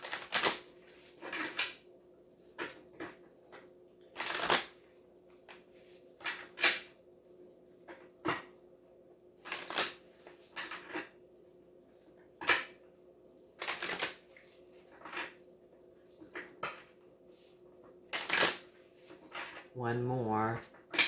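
Tarot cards being shuffled and laid down, in short crisp riffling bursts spaced every few seconds with quiet gaps between, and a person speaking briefly near the end.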